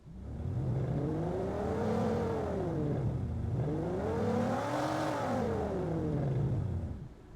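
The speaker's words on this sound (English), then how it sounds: "I can get this really cool rev sound and control over here" A synthesized engine sound effect revving up and back down twice, a smooth rising and falling whine with a steady drone beneath it, loud and close with no talking.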